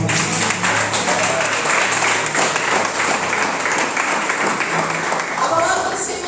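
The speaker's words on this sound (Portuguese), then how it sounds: "Exalta Jesus com palmas." Church congregation applauding and clapping together at a worship service, a steady dense wash of claps that stays loud and continuous throughout, with faint voices mixed underneath.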